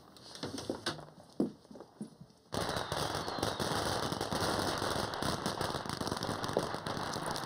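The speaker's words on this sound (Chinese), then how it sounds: "妈妈，我想去看放鞭炮。" Firecrackers burst in a loud, dense crackling barrage after a few scattered pops, a continuous rattle that holds for several seconds.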